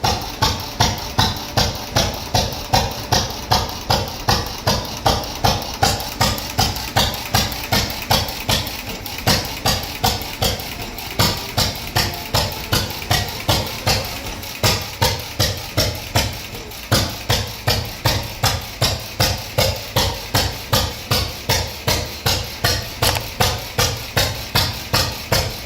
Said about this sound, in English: 1919 Fairbanks Morse Z6 horsepower engine starts with a chug and settles into that timeless hit-and-miss rhythm.